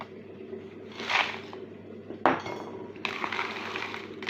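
Dessert ingredients and crumbled cookies stirred together in a bowl, giving soft squishy mixing with a few clinks of a spoon against the bowl, one sharper knock midway, close and moderately loud with no talking.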